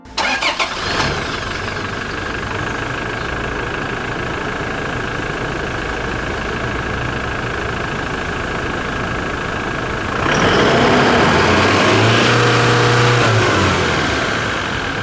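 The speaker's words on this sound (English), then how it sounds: "mild hybrid straight 4-cylinder turbo diesel engine that produces 204 horsepower" A Toyota Hilux Invincible's 1GD-FTV mild hybrid four-cylinder turbo diesel engine, 204 horsepower, idles with a steady clattering rumble, then revs up loudly with a rising roar near the end.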